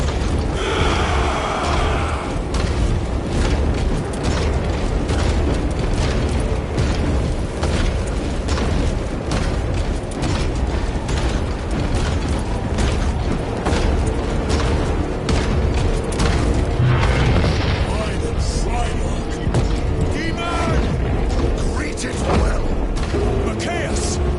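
Space battle in a video game: continuous loud cannon fire and booming explosions with mechanical clatter, dense and unbroken throughout, mixed with a game score.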